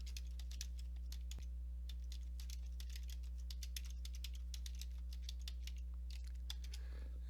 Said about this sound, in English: I'm going to type Aspen Falls City Hall